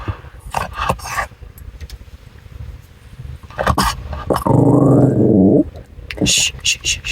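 A dog named Rowley gives a low, steady growl lasting about a second, then whimpers briefly, with a person speaking before and after.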